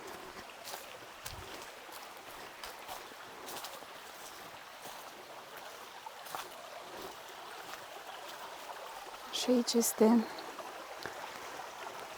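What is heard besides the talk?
stream flowing with lots of water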